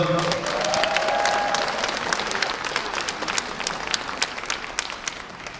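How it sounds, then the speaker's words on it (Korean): Audience applause at a Rotary district conference session, a dense, steady roar of many hands clapping that holds strongly for several seconds, with a voice faintly audible early on. "우리 초아총리 박수 한번 보내드리도록 하겠습니다"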